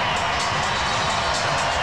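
A big crowd in the Superdome cheers and roars in a standing ovation after a wheelchair basketball gold medal game, a dense, steady wall of applause and shouting that fills the whole stretch.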